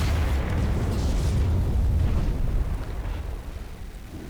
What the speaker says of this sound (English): So obviously the ship's been destroyed